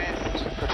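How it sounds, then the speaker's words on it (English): Rescue helicopter in flight, a brief low rotor drone with dense broadband noise, heard for under a second at moderate distance with a voice faintly underneath. "This is a rescue helicopter"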